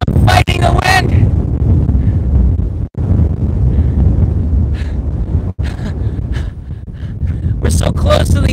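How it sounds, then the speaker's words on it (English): Strong typhoon wind buffets the microphone at a Tokyo sunset viewpoint, a loud, continuous rumbling roar with brief gaps, while voices come through now and then. "Seriously, guys, it is super strong wind."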